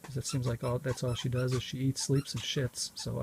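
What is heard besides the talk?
No everyday noises stand out.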